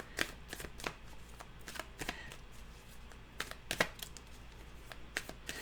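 Tarot cards are shuffled close by in quick, soft riffles and taps that come in uneven clusters against a quiet background.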